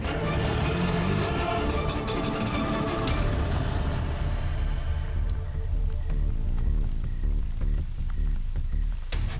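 Rain falls steadily in a dense, hissing patter, loud and constant throughout, with tonal musical sounds rising over it in the second half.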